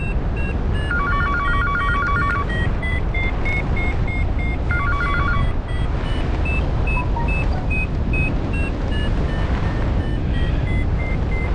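A telephone rings indoors in repeated electronic trill bursts, two clear double rings followed by softer intermittent tones over a steady background hiss, with no talking.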